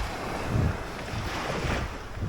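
Waves and wind on a seaside walk, with a continuous rushing surf and wind buffeting the microphone, close and fairly steady with slight swells.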